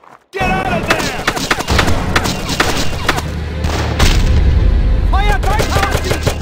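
Heavy gunfire and booms in the video game Brothers In Arms 2 Global Front, a dense battle with repeated close shots and blasts, shouting voices over the fighting.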